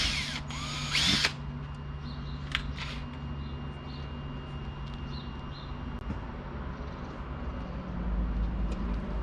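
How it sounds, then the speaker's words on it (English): A power drill whirs briefly at the start, drilling a 1/16-inch pilot hole, followed by a low steady machine hum with faint high-pitched chirps in the background. "I'm gonna try and drill a pilot hole, an 1/16" pilot hole here"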